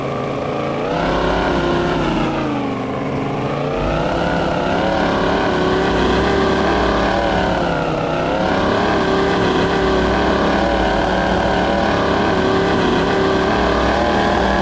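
An off-road truck in the SpinTires video game racing down bumpy ground, its engine droning loud and steady with pitch rising and falling as it bounces, alone without talk.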